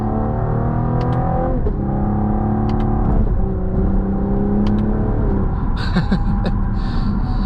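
A 2025 Cadillac CT5 550T on a winding road, its engine holding a steady loud hum with the pitch rising and falling as it accelerates and eases through the bends, with no talking.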